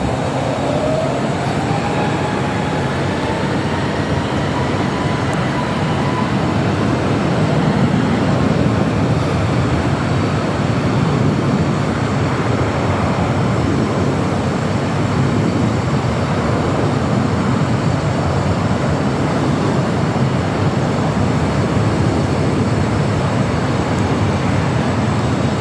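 A jet airliner takes off from runway 24 left at LAX with a loud, sustained engine roar and rumble that holds steady from nearby for the whole stretch.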